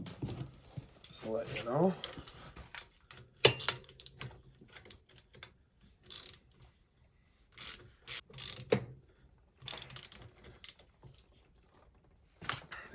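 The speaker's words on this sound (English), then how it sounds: "We'll put the rear shock into the mount. Screw that on." A ratchet tightens the 14 mm rear shock mount bolt on a 2001 Yamaha Venture/SXR 600 snowmobile, quick rapid clicking pawl bursts close by in short spurts, with someone talking briefly between them.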